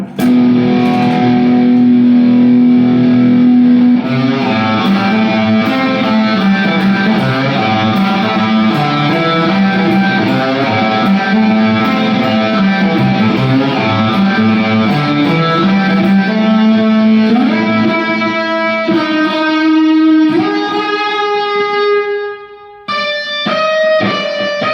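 An Epiphone SG Standard electric guitar plays sustained notes and chords through reverb, loud and up close, ending in bright ringing single notes with no talking.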